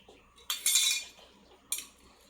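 A metal idli steamer pan handled in a home kitchen gives two bright clattering clinks, one longer rattle and then a shorter knock, close by and with no voices.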